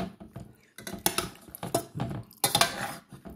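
A utensil stirs chicken macaroni in a cooking pan, making repeated close metallic scrapes and clinks in irregular bursts.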